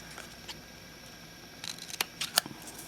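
Scissors snip through folded paper while cutting fishtail ends for a handmade paper bow, a few quick crisp cuts clustered near the end, close and fairly faint with no talking.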